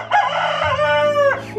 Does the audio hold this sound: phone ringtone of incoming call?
no